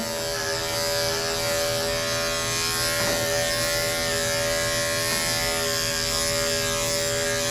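Andis electric clippers fitted with a 1 guard grooming a doodle dog's coat give off a steady, close, continuous buzz with no talk over it.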